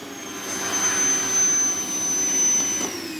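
A vacuum cleaner runs continuously with a loud, steady whooshing roar and a thin high whine, close by and unbroken.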